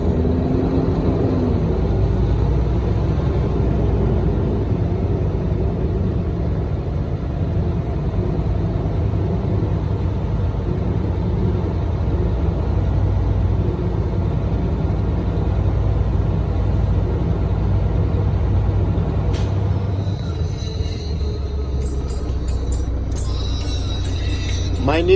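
A heavy vehicle engine idles steadily during an air brake pressure test, a constant low rumble that holds for most of the stretch before shifting near the end with some clattering mechanical sounds.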